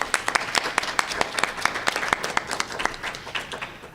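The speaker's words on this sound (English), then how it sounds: "So let's give them all a big round of applause." A crowd at a student gathering claps for campus groups, a busy round of applause with many sharp individual claps standing out over a steady dense patter, lasting without pause.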